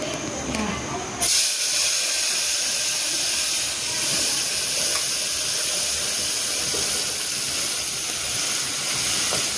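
Onions and spices hit hot oil while Kathiyawadi-style Maggi rice is tempered in a home kitchen, a sudden loud sizzle bursting in after a second and hissing steadily and close for the rest of the clip.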